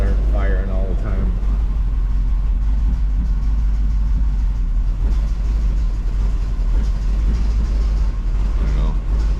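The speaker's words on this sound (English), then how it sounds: "As you can hear, she's real rough idling." A small-block Chevy V8 idles roughly and unevenly with cylinders misfiring, a constant low rumble throughout, with a voice briefly heard at the start.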